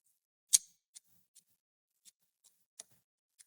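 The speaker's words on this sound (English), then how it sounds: "I'm gonna trim this some more here." Scissors trimming material for a homemade light trolling lure, a string of about seven sharp, crisp snips at irregular intervals, close and isolated against near silence, with the first cut loudest.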